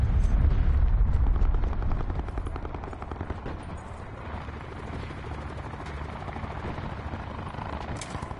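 Video game helicopter near a river crossing, with a dense low rotor rumble that starts loud and settles into a steady drone, and sharp crackles of gunfire scattered over it.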